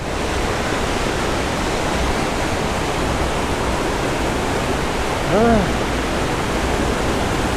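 Powerful waterfall at a resort and eco adventure park, a loud, continuous broadband roar of rushing water filling the scene, with a brief tonal chirp near the end.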